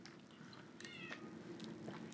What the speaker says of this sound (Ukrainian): Тепер на мене ще кішка кричить із вулиці.